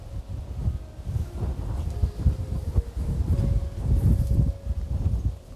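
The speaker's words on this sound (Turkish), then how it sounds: "Çok rüzgar." Strong wind roars across a high mountainside village, with a dense continuous rumble and gusting buffeting against the microphone, loud and close, and no voices.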